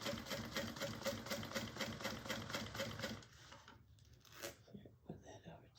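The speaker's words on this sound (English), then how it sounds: "I think my Juki should be okay with sewing through this." A Juki sewing machine sews through bag material in a fast, steady rhythmic whir for about three seconds and then stops, followed by quieter handling of the fabric and soft talk.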